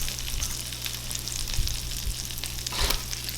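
Garlic fries in a pan with a dense, steady sizzle and crackle, close by, with a few soft stirring bumps underneath.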